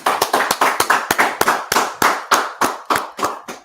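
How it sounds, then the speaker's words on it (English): Audience clapping at a live gathering, roughly a dozen sharp, evenly spaced claps over a few seconds, loud and close with a steady rhythm and no talking. "Let's clap it up."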